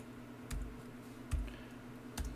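Three separate soft keystrokes on a computer keyboard while a command is typed, each a dull close thump over a low steady hum, with no talking.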